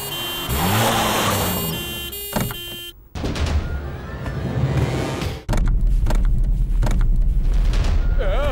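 A car drives through a chaotic action scene in a Hindi action film, with engine rumble and passing vehicle noise under shouting voices and music-like tones, growing louder and steadier toward the end.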